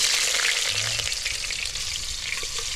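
Chopped onion sizzles in hot oil while cooking at a snowy winter campsite, a loud, steady, crackling hiss that continues unbroken throughout.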